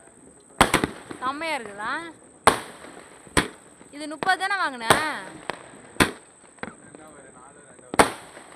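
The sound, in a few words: firecrackers bursting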